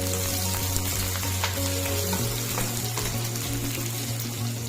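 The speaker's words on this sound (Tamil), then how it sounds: "ரெண்டு பெரிய வெங்காயம் சின்ன சின்னதாக கட் பண்ணி வச்சுருக்கேன் ஸோ அதையும் சேர்த்து நல்லா வதக்கிக்கலாம்" Chopped onions sauté in hot oil in a pan for garlic kulambu, giving a steady, close, dense sizzle that holds throughout with a faint constant hum underneath.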